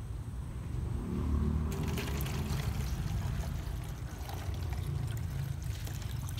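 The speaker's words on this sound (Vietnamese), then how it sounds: "Chế nước vô luôn nha." Water pours and trickles into a small betta fish container, a steady splashing flow that grows busier partway through and continues without talk.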